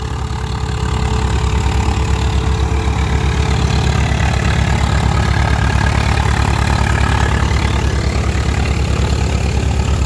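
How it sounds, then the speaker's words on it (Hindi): A Swaraj 855FE tractor engine labours under load while driving a farm threshing machine, a loud, steady diesel drone with a fast, even thumping pulse that runs unbroken and close by. "ट्रैक्टर को आप देख लो, ट्रैक्टर जो है कितने जोर लगा रहा।"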